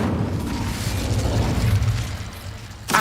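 An Incendio fire spell cast in Hogwarts Legacy roars as a sustained low, rushing burst, swelling in the middle, easing off, then flaring sharply again at the very end.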